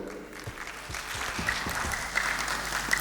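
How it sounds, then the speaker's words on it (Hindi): Audience at a comedy benefit show gives scattered applause, individual claps audible over a murmur of crowd noise, moderate and somewhat distant. "उनके लिए भी बहुत सारी तालियां हो जाएं।"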